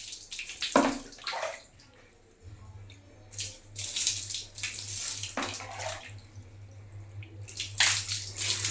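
Water splashes and pours from a tap into a tub while a baby is bathed, bursts of close splashing between running water, over a steady low hum.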